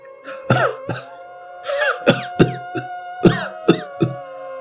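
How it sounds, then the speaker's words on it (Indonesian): A person coughs in several harsh, close bursts, some in quick pairs, with short breaths between them. "tiba-tiba terdengar suara orang yang sedang batuk di belakangnya"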